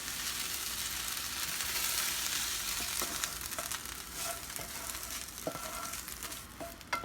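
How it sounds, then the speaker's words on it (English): Browned onions and garlic sizzle steadily with meat in a pan, a continuous loud frying hiss broken by a few light clicks and scrapes of a spatula toward the end. "now that the onions are brown, you gotta dump them all into the meat"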